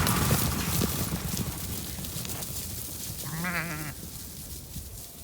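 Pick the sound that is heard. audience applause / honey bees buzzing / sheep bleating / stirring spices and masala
sheep bleating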